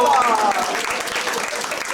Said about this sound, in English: And make sure to say applause for Jackie for going through the trouble.